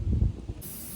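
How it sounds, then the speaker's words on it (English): Rust-Oleum metallic paint and primer sprayed onto rusty flatbed trailer rails, a brief steady aerosol hiss starting halfway through after some low handling noise, close and fairly loud. "I'm going to use this metallic paint and primer Rust-Oleum to hit these rails to cover up all this rust."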